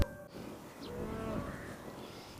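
A cow gives one drawn-out, low moo at a moderate distance, heard alone over faint outdoor background noise.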